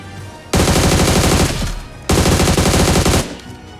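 Loud close-range automatic gunfire from the battle-royale game BGMI, two sustained bursts of rapid shots, each lasting about a second and a half, with a brief pause between them.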